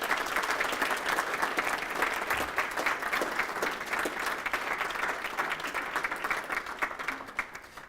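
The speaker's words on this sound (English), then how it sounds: "So can we all just give them a round of applause?" A gala dinner audience gives a steady, full round of applause for a team, the clapping even and continuous throughout at moderate distance.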